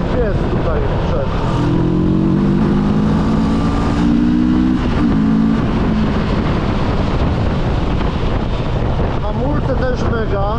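New motorcycle engine droning steadily while riding, with a loud continuous hum and wind buffeting the microphone throughout, engine tone rising and shifting near the end.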